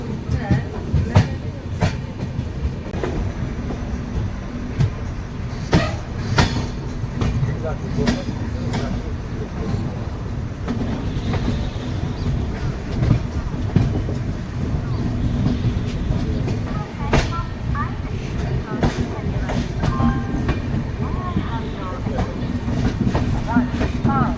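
The Kamrup Express, Howrah to Dibrugarh, runs into New Jalpaiguri station with loud rhythmic clickety-clack of wheels over rail joints and sharp clanks through points, close and continuous, with no talking.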